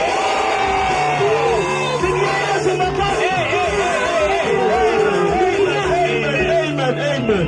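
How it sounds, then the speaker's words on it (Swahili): A church crusade congregation cheers, whoops and ululates loudly together, a dense, sustained wall of high trilling voices and yells, with a low steady hum beneath. "Nasema shangwe na vigelegele."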